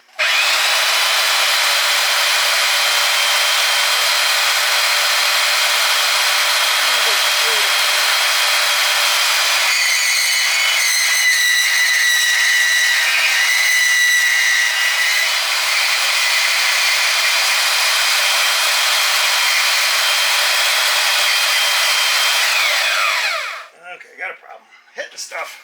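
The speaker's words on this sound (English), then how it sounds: "on the bandsaw here, I can take and cut just real small" A bandsaw cuts thin strips of wood for a dune buggy frame, a loud sustained whine with the blade's rasp shifting midway, running for over twenty seconds before spinning down with a few knocks at the end.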